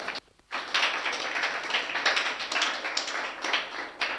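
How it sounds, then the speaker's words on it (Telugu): An audience claps together in a large gathering at a religious sermon, a steady dense applause that starts after a brief pause and carries on loudly to the end. "చప్పట్లు కొట్టండి ఒకసారి."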